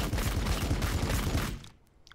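Rapid, dense gunfire volley in the strategy game Warhammer 40k Battlesector, loud and continuous for about a second and a half, then cutting off to near quiet with a few faint ticks.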